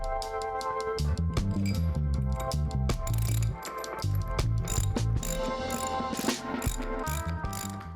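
A ratchet clicks rapidly in repeated bursts, close up, tightening a cap on a WP PDS shock with quick back-and-forth pawl strokes.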